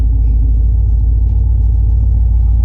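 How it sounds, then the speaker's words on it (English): A turbocharged LS-swapped C10 truck running 12 psi of boost pulls hard under acceleration, a loud, steady low engine rumble filling the whole stretch with no voices over it. "right as it was about to shift into second, it did the little throttle body flutter thing"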